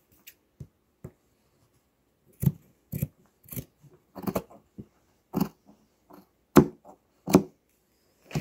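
Scissors cut paper for a craft gnome in a series of close, crisp snips at an irregular pace, a few isolated clicks first, then denser cuts in the quiet.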